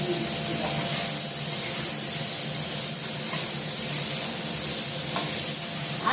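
Washed cauliflower stalks go into potatoes, eggplant and green chilies already frying in oil, producing a loud, continuous close sizzle and hiss with scraping stirring throughout.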